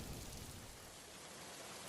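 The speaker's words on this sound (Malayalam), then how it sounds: "മഴയല്ലേ, അകത്തോട്ട് കേറി വാ." Animated rainfall pours steadily, a soft continuous hiss of raindrops with a low thundery rumble underneath, quiet and even over the short span.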